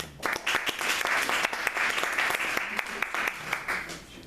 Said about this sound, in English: Maybe hold your applause.